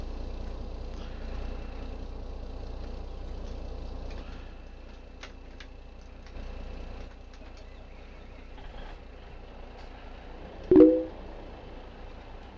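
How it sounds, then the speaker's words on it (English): Kenworth truck in a truck driving video game, a low, steady engine idle rumble running quietly throughout with faint ticking and one brief sharp click near the end. "We're going to pull that Kenworth up."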